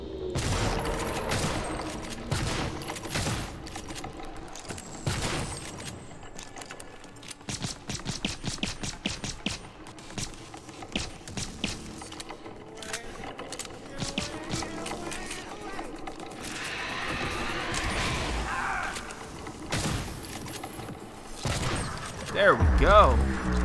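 Gunfire in the 2017 Prey video game, heard as scattered sharp shots and short volleys mixed with mechanical clanks and footsteps, moderately loud and spread over a longer stretch, with occasional talking.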